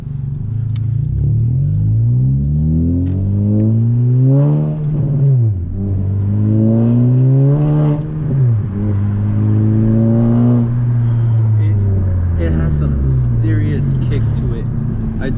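A straight-piped 2021 Honda Civic FK7 hatchback with a Skunk2 exhaust drones loud and close on the freeway, rising and falling through repeated pulls and shifts, with a voice talking over it.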